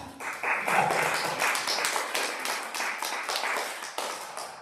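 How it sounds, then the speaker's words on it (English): Small audience at a church jazz vespers service applauding a trumpet, guitar and piano trio, with several seconds of close, uneven clapping and no talk. "You can applaud."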